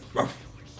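A single short dog bark or yip, heard once at moderate loudness during Kerberos battle music from the Devil May Cry HD Collection, then a quiet tail.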